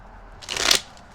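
Tarot cards are shuffled once, a short, close riffling rustle lasting under half a second against quiet background noise.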